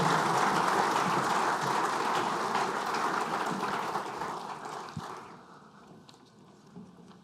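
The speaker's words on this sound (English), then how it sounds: "a huge round of applause, please, for Shalini, Michelle, and Olivia." Conference audience applauds at a closing session, a dense burst of clapping that holds steady and then tapers off to near silence over the last few seconds.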